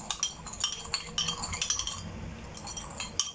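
A spoon stirring salt and sugar into a salad dressing for stem lettuce, making quick, rhythmic clinks against a glass bowl, close and steady, with no talk.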